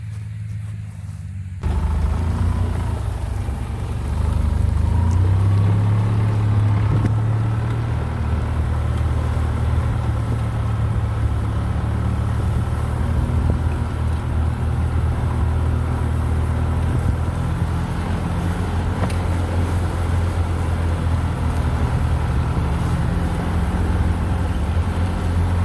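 A vehicle rolls along an electric fence line with a steady, low engine hum and tire rumble that holds evenly throughout, starting just after a brief quiet moment.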